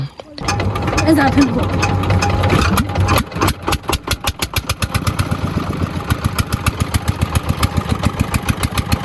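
A moving trawler's engine sputters into a steady fast putter, close and loud, with a brief voice near the start.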